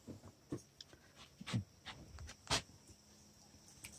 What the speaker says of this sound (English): Oh, that dumb dog.